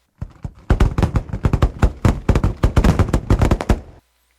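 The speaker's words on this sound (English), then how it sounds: "The dynamite exploded right in the middle of the waiting stock of fireworks." A dynamite blast sets off a stockpile of Fourth of July fireworks as an audiobook effect: a rapid, loud string of sharp bangs and crackles lasting several seconds, then silence.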